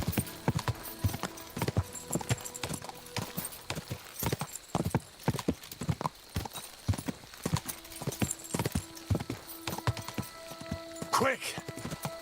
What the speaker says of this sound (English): Andar de cavalo assim.